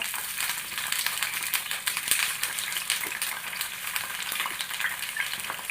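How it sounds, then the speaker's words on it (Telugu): Green chillies and tomatoes frying in a tablespoon of oil in a pan on a stove, a continuous close, bright sizzle with occasional crackles and stirring scrapes. "ముందుగా స్టవ్ మీద ఒక ప్యాన్ పెట్టి ఒక టేబుల్ స్పూన్ ఆయిల్ వేసి పచ్చిమిరపకాయలు టమాటా"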